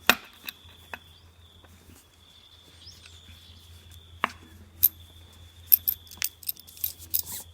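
Scissors cutting paracord for a dog collar, a few sharp isolated snips near the start, then a quiet pause and a quicker cluster of crisp clicks and snips at close range over a steady faint hum.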